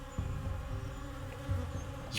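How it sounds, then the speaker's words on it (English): A swarm of bees drones in a steady, close, low hum that thickens in brief surges, ending with a rising whoosh, played as a sound effect in a tabletop RPG session. "You are surrounded by bees, and they are getting louder and louder and louder all about you, buzzing and screaming in your ears."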